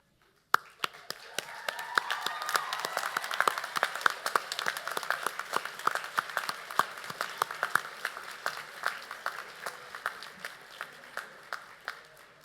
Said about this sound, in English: would you please stand as you are able for a round of applause?